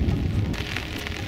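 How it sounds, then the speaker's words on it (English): Rain and wind hitting a sailboat at anchor in Squirrel Cove, coastal British Columbia, heard as a continuous close hiss of rain with low gusty rumble and no voices. "Yes, the rain and wind have arrived."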